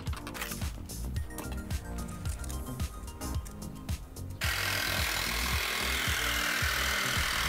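An AEG BST18X cordless jigsaw cuts through wood, probably thick timber beam, with a steady rhythmic rasping stroke pattern that runs loud throughout, then shifts into a denser, brighter continuous roar partway through the cut.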